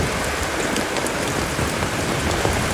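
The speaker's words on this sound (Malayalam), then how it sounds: "ഭയങ്കര മഴ ഒരു രക്ഷയില്ലാത്തതാണ്" Dense, heavy rain pouring steadily, a loud unbroken hiss of drops striking surfaces.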